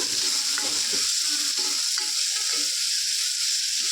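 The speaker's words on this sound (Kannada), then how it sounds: "ಇದೆಲ್ಲ ಹಸಿ ವಾಸನೆ ಹೋಗಬೇಕು ಅಲ್ಲಿವರೆಗೂ ಚೆನ್ನಾಗಿ ಫ್ರೈ ಮಾಡ್ಕೊಂಡು ಬಿಡೋಣ" Ginger, garlic, green chilli and mint fry in hot oil in a pan with a loud, steady sizzle, while a spatula scrapes and stirs in irregular strokes close by.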